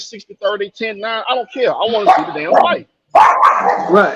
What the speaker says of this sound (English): Nah, that's my dog, man.